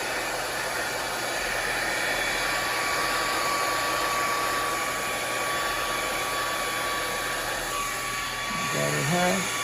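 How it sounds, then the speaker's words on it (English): A blow dryer runs continuously during a cosmetology state board blowdry with a brush, a loud steady whooshing hum close by, with a brief voice near the end. "And I'm steady moving my blow dryer"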